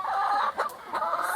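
Backyard chickens cluck close to the microphone in a muddy coop area, with several quick throaty calls in uneven bursts over little more than a second, loud and clear with no talk.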